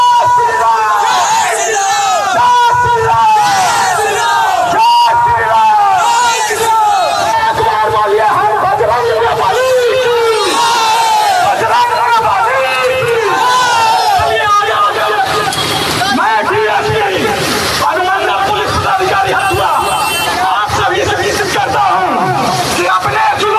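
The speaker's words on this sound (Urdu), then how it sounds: "مسجد کے باہر لاؤڈ سپیکر پر JSR اور دوسرے مذہبی نعرے لگاتے ہوئے نظر آ رہے ہیں" Religious slogans chanted loudly over a loudspeaker outside a mosque, led by a police officer, with a dense crowd roaring responses in continuous waves of shouting.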